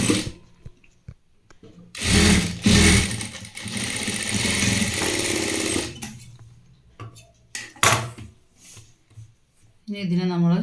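A sewing machine stitches a small fabric bow in a loud, continuous whir of about four seconds, then a second short burst. Someone speaks quietly in Malayalam before and between the runs.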